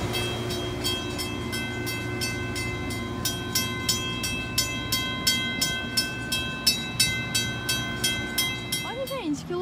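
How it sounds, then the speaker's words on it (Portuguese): A train rolls past at a railway station, its wheels clacking in a steady, evenly spaced rhythm over a loud continuous rumble and tonal whine, with a brief warbling horn or squeal at the end. "Eu acho que é esse tipo de trem que a gente vai pegar."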